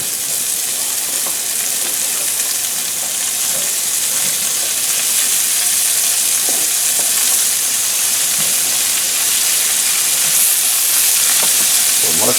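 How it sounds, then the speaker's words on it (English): Mushrooms and onions fry in a pan for smothered pork chops, giving a steady, loud sizzling hiss with soft crackles throughout and no talking. "I'm going to throw my mushrooms and onions in there."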